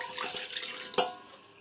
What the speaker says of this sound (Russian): необходимо налить в кастрюлю воду и проверить герметичность кастрюли